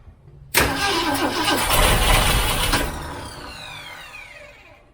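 A 1967 Mustang 390 Fastback engine fires and revs hard, loud and close, with a sudden burst of roaring that holds strong before easing back to a settling idle.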